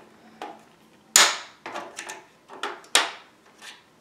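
Plastic clips on an Xbox 360 Slim console case being pried open with a thin tool, producing a series of sharp snaps and clacks, one loud crack followed by several smaller ones, close up with no speech.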